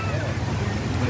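A strong amihan wind gusts over Laguna Lake, a low steady roar of wind buffeting the microphone with choppy waves beneath and faint voices mixed in.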